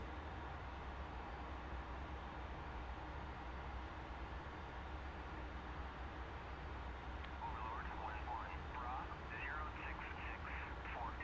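An aircraft taxis in the DCS flight simulator: a steady, low engine drone holds at an even, fairly quiet level throughout, with faint voice-like chatter creeping in toward the end.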